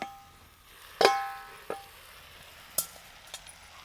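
A vegetable cooks in an iron kadhai on a stove, giving a faint, steady sizzle broken by a few sharp stirring clinks and scrapes, heard alone without talk.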